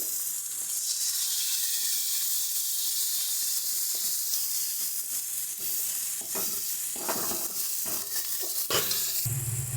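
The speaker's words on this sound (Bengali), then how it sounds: "এর মধ্যে কেটে রাখা আগে থেকে টমেটোটা দিয়ে দিচ্ছি" Chopped tomato goes into spices frying in oil in a pan, giving a steady, loud sizzle with stirring scrapes and bursts of spitting steam as the wet pieces hit the fat.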